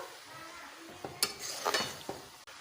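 A grated coconut and jaggery mixture is stirred in a pan, giving a soft sizzle with a few brief utensil scrapes and light clinks close by, and no voices.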